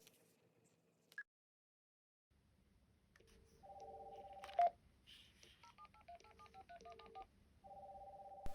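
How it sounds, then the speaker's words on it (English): A BT landline dials a mobile phone: a quick series of clear DTMF keypad tones, then a repeating electronic ringing pattern that plays in bursts, heard close with no talking. "we'll be using the BT landline to ring the mobile phone"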